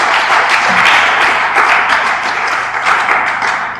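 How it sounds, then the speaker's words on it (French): Audience members at a Congolese gospel event applaud in a brief, loud burst of clapping that swells and then thins out slightly toward the end. "sous vos applaudissements, mesdames et messieurs."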